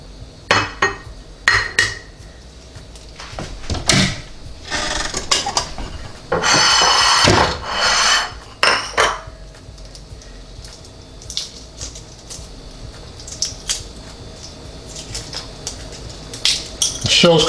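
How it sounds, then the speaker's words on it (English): A cooled hard-boiled egg has its shell cracked and peeled, giving scattered sharp taps, crackles and light scraping, with a denser rustling stretch in the middle and quiet gaps between the handling sounds. "I'll just go ahead and get the shell off of this one."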